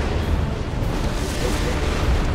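A Baneblade super-heavy tank's main cannon firing in the Dawn of War II: Retribution strategy game, a dense rumbling roar of blasts and explosions, loud and continuous, with no talk over it.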